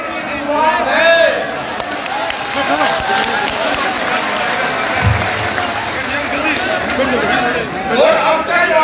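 Large crowd of protesters at an outdoor farmers' movement rally in Haryana, a dense steady roar of many voices with shouting and scattered clapping, loud and continuous throughout.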